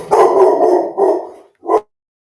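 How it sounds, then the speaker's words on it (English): A dog barks close by, a long rough bark followed by a shorter one and then a final brief yap before silence. "Okay, Cujo's done barking at absolutely nothing"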